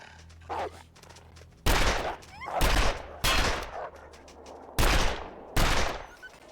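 Gunshots in The Long Dark, the survival game, ring out as about five loud, sharp blasts spaced irregularly, each with a short booming tail, over faint ambient wind.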